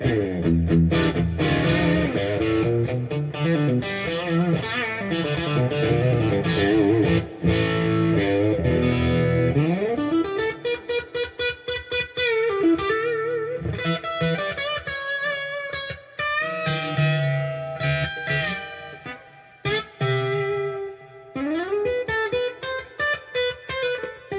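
A moderately distorted electric guitar, a Schecter, plays chords and single-note phrases on a mid-gain tone with a reverb tail, loud and alone.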